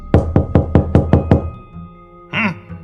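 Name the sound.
forceful knocking on a large wooden door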